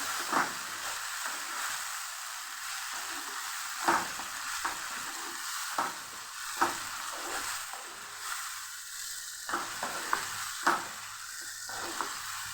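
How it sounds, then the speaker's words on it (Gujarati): Chopped tomatoes sautéing in a hot pan for a Kathiyavadi besan curry, a steady sizzle broken by repeated scrapes and taps of the spatula as they are stirred. "અહીંયા હવે આપણે ટમેટાં ઉમેરી દઈશું આપણે સરસ સાતડી લેવાના છે"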